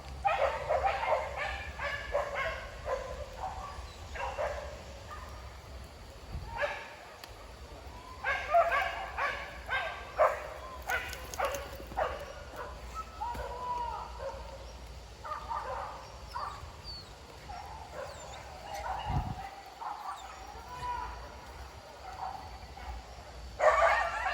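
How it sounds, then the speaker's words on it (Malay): Scattered dog barks and yips over a low steady hum, coming in short bursts with pauses, moderately close. "Suara anjing."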